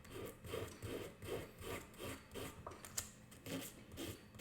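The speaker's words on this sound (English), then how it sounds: "we're going to finish sanding the top of the head, and we're going to blend the head into the stick" Sandpaper folded in thirds rubs back and forth over the head of a wooden violin bow, a steady rhythmic scratching of about nine even strokes, close and alone.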